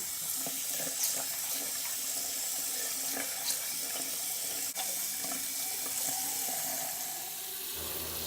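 Tap water runs steadily into a sink while a makeup sponge is rinsed under it, a continuous close splashing stream with small shifts in flow and no talking.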